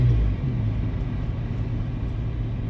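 A 1999 Honda Civic with a swapped-in 5-speed manual transmission drives along, its engine a loud, close, steady low rumble that dips slightly after a brief surge at the start, with no voices.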